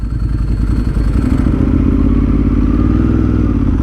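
A moped rides past close by, its buzzing engine steady and loud with clattering rattles and a rising whine as it goes.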